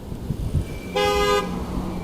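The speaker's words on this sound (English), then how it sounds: "I like how they honk when they're wrong and they honk the horn." A car horn toots once in a short, steady blast amid road traffic, fairly close and loud over the background hum of moving vehicles.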